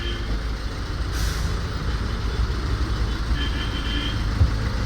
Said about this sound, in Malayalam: ഇത്രയും ബസ് ഇങ്ങനെ വട്ടം കറങ്ങിയിട്ട് ഇങ്ങനെ നിർത്തുക.